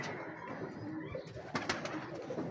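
Racing pigeons coo softly and repeatedly close by, low murmuring calls over a faint background hum.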